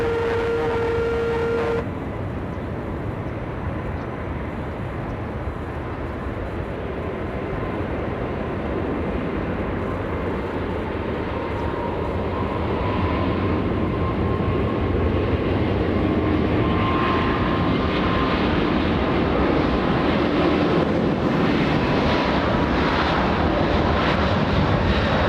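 Air Force One jet taking off at LAX, a loud, steady roar of engines that builds gradually and grows stronger as the aircraft accelerates down the runway, heard alone without talk.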